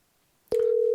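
Telephone call tone on an outgoing call: a click, then a loud steady electronic tone that starts halfway through and holds to the end, with no voices.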